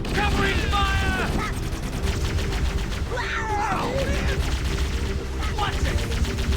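Sustained automatic gunfire rattles densely throughout a Halo: Combat Evolved firefight, loud and close, with voices shouting over it.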